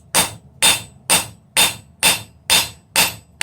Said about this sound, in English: I'm just going to take and hammer a bevel all the way down the piece